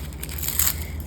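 Dry, papery onion skin peeled off by hand at close range, giving a brief crinkling, crackling rustle with no voices over it.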